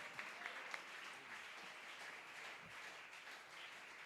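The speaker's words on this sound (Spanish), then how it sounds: "Dele ese aplauso al Señor." A church congregation applauding, a dense, steady wash of clapping heard from a distance, fairly faint and continuous for several seconds without pause.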